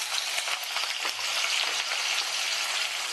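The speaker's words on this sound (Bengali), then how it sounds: "আমি এবার তেলের মধ্যে এই পেঁয়াজ কুচিগুলো দিয়ে দিচ্ছি।" Thinly sliced chopped onions frying in white oil in a wok for a Bengali cauliflower dish, a steady close bright sizzle with light stirring taps throughout.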